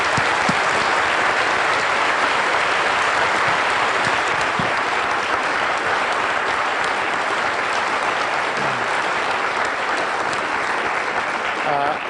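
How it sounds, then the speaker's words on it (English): Sustained audience applause at the close of a lecture on human evolution and DNA, a steady dense wash of clapping for about twelve seconds with a few voices mixed in. "How about a round of applause to Mike for an extraordinary lecture?"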